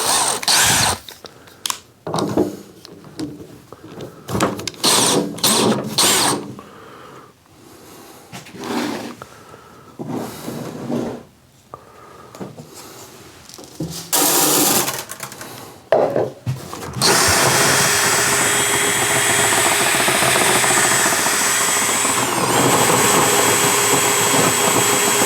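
Grain being milled for a double oak roasted bourbon mash, with harsh grinding and rubbing noise in irregular bursts that then settles into a long, steady, loud mechanical roar.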